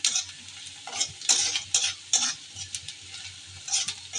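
Onions and green chillies frying in a wok, with a steady sizzle broken by repeated stirring scrapes and clinks from a utensil against the pan, close by and moderately loud.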